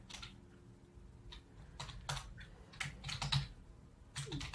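Typing on a computer keyboard while writing an email reply, with irregular bursts of close, quiet key clicks and short pauses between them.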